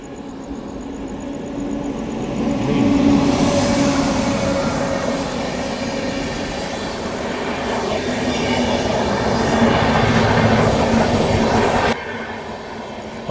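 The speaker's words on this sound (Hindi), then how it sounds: "सामने कोई तो ट्रेन आ रही है, ये मेरे ख्याल से कोई गुड्स ट्रेन लग रही है मेरे को।" A goods train passes close by on an Indian railway line, heard as a steady loud rumble with rhythmic wheel clatter and faint squeal that swells and holds throughout.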